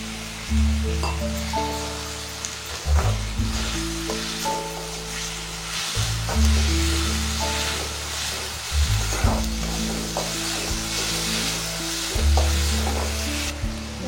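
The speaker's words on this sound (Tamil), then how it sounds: "தக்காளியை நல்லா வதக்கி எடுத்துக்கோங்க." Chopped tomato sautéing in masala for a meal-maker masala sizzles loudly and steadily, with a few soft clinks of a spoon against the pan and periodic low thumps.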